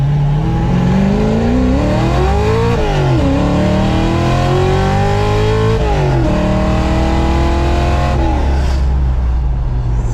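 A 1966 Mustang GT350 engine revs hard, pitch climbing and falling through repeated throttle blips over a loud, continuous close-up drone.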